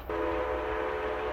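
A train rumbles on the tracks with a steady tonal horn-like drone over low rolling noise, fairly distant and continuous.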